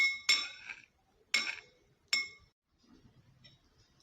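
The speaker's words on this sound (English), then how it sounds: "And mix the honey very well." A spoon strikes a bowl three times while honey for a face mask is mixed, giving bright, ringing clinks that fade quickly, close and clear, with quiet handling noise afterward.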